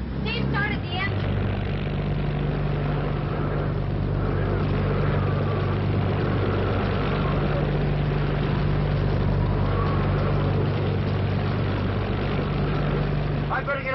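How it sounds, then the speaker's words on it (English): A boat engine runs continuously with a steady low drone, in a 1950 television drama set during a hurricane at Pilgrim Hill, while voices talk and shout over it. "started the engine"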